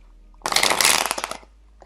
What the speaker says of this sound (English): And usually when I shuffle cards out, I'm going to start getting messages.